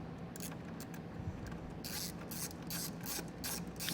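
A socket wrench ratchets in short bursts while tightening a bolt during a Roadmaster battery charge line install, the clicking clusters fairly close and moderately loud over steady background hum.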